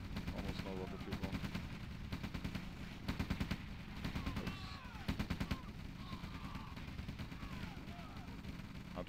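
Artillery and gunfire from the real-time strategy game OpenRA, repeated rapid bursts of shots in rhythmic clusters over a dense backdrop of battle noise, with a commentator talking underneath.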